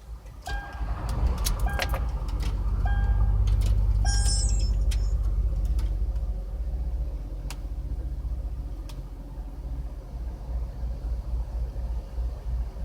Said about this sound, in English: see if the reinstalled factory idle air control valve is going to make a difference in this car refusing to idle like a normal freaking car